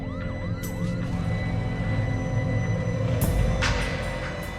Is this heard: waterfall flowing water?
no